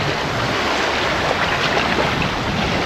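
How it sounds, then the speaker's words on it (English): A sailboat under full main and Genoa with its engine off, in a 15-knot wind, moves through waves; there is a constant loud rush of water and wind buffeting across the whole stretch, with no voices. "We just turned off the engine and now we are sailing."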